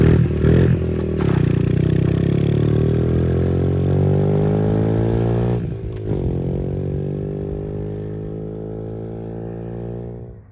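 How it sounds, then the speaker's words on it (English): A Honda XR50 dirt bike rides through dirt with a steady, loud engine drone that holds close and strong, shifting in pitch as it revs, then eases slightly toward the end. No one talks. "He's ripping on it. Gonna go right through the dirt and down through his little ditch."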